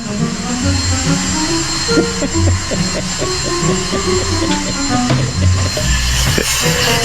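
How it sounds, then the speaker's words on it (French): A vacuum cleaner runs continuously aboard a sailboat at anchor during a strong mistral, a steady motor drone with faint clattering and low rumbling underneath. "Voilà, elle est contente, elle a son aspirateur."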